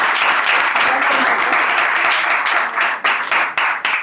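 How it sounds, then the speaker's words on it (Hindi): A church congregation breaks into loud, steady clapping for newcomers standing up at a Christian gathering, a dense sustained roar of many hands that thins into scattered claps near the end. "चले इनके लिए ज़ोरदार तालियां बजाएंगे"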